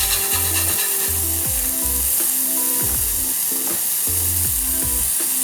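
Smash burger patties sizzle loudly on a hot griddle while a metal spatula scrapes repeatedly across the surface in rough rhythmic strokes, close and continuous with no talking.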